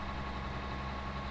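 A pickup truck engine idles steadily in Farming Simulator 2013, a constant low rumble that holds even and unbroken, close and fairly loud with no voices over it.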